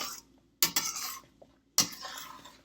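A spoon scrapes and clinks against a pan while uppudu pindi is stirred as the water cooks off, two sharp bursts of metallic scraping separated by quiet, with a soft knock between them.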